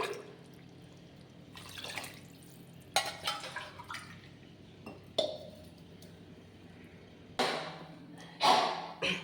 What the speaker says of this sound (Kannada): ಇದೇ ಲೋಟದಲ್ಲಿ 6 ಲೋಟ ನೀರು ಹಾಕ್ಕೊಳ್ಳೋಣ.